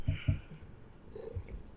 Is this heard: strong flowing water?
no